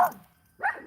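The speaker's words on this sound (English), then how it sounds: "Dogs are going crazy." Two quick dog barks close by, one at the start and another after a brief gap, loud and sharp with silence between.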